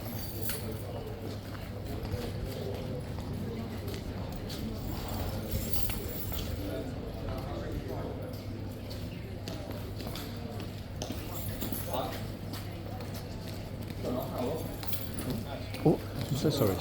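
Cavalry horses of the King's Guard clip-clop restlessly on hard ground while preparing for the Elizabeth Cup, the hoof knocks soft and scattered beneath continuous talk and a steady hum, with a few faint clinks.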